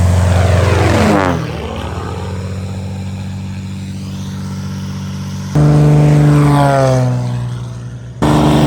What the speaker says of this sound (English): a 1942 Boeing Stearman.